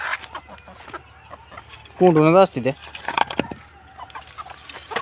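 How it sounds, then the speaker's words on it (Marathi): Farm chickens cluck loudly in a brief burst as they are let out of their wire-mesh pen to feed, with someone talking nearby before and after. "हो कोंबड्या जाळीत आहे त्या, आता सोडतो जरा खायला"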